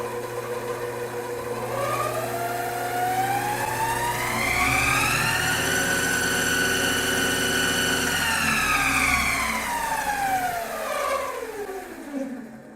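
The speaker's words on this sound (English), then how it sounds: "There's a vibration in the chuck. It's out of balance at 896 RPMs according to the display." Chuck of a 7x14 two-speed mini lathe spinning out of balance near 896 RPM, giving a steady whirring motor hum with vibrating harmonic overtones that rise, hold and then fall as it spins down, with no talking.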